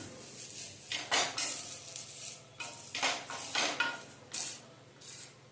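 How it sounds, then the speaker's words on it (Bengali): A metal spatula scrapes and taps a banana leaf being toasted on a hot iron tawa: a string of light clinks and scraping rasps in uneven bursts, close up and fairly quiet over a low background hum. "আমি চাটুতে করে, এই খুন্তিতে করে নিয়ে সেঁকছি"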